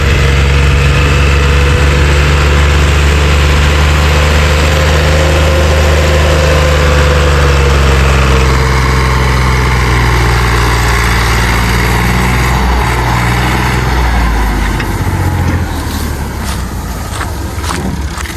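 Two tractors run together at a muddy crossing where wood has been thrown down for traction, a loud continuous low diesel drone that holds steady, then eases and fades slightly near the end.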